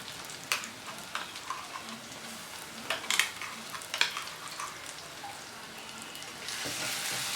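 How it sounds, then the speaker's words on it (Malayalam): Ground spice paste sautéing on low flame in a pan for a Kerala fish mango curry, a soft continuous sizzle broken by a few sharp spoon scrapes and taps, growing slightly louder near the end. "അരപ്പ് ചേർത്തതിന് ശേഷം സ്റ്റവ് ലോ ഫ്ലെയിമിൽ വെച്ച് 2-3 മിനിറ്റ് നന്നായിട്ട് വഴറ്റി കൊടുക്കണം"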